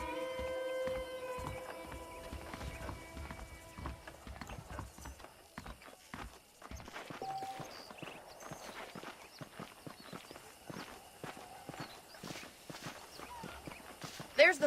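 Hooves clip-clop in a steady walking rhythm over ambient sounds in Red Dead Redemption, with a voice speaking at times and a horse snort near the end.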